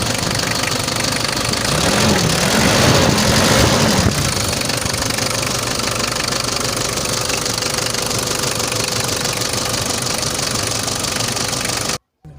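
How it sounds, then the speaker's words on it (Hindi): Engine of a 1992 Toyota Surf 4x4 idling close by, a steady rough knocking drone that holds for about twelve seconds before cutting off abruptly, with no talk. "अब आपको इंजन स्टार्ट करके दिखाते"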